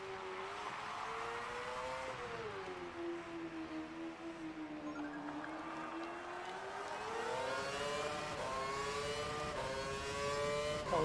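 An F1 2012 race car engine in the video game, during a young driver test, holds a loud, continuous whine that dips and then climbs in pitch, with sharp upshift steps near the end.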